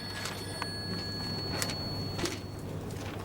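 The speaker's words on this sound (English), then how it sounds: "This is your phone, Asma." A phone rings during a lecture hall talk, its faint, repeated electronic tones sounding in short spaced pulses over a low steady room hum.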